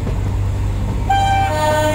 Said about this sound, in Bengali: ট্রেনের হুইসেল শোনা গেল দূরে।